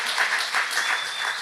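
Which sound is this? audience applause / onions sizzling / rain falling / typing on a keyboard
audience applause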